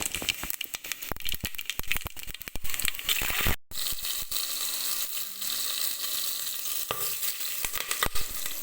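Fennel seeds and whole spices such as cinnamon crackle and sizzle in hot oil and ghee, a steady close frying hiss broken by sharp pops and rattles of stirring, with a brief dropout midway.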